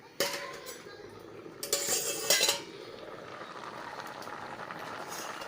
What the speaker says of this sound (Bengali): এখন ঢাকনা খুলে দেখব